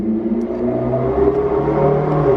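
A McLaren 12C sports car engine runs with a steady mid-pitched drone, its tone shifting slightly as it revs, heard close and loud without any talk.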